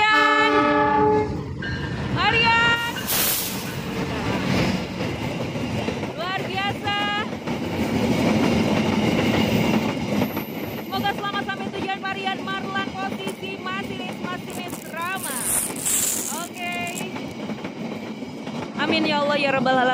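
The Argo Wilis passenger train speeds down a mountain line, a loud, close run of rumbling wagons and rail clatter. Repeated horn blasts sound throughout.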